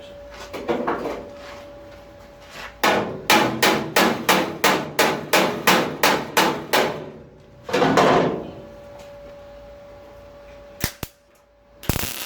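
A small hammer striking metal body panels of a Ford Cortina Mk5 in a quick run of about a dozen sharp, evenly spaced blows, preceded and followed by scraping handling noises.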